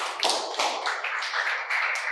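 Audience clapping after a talk on the power of habits, a short patter of a few hands clapping close by, brief and fairly even.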